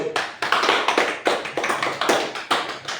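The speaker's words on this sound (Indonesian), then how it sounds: "Oke, kasih dulu tepuk tangan." A class applauds a presenting student group during a lesson, giving a short burst of close, moderately loud clapping with distinct uneven claps repeating for a few seconds and no talking.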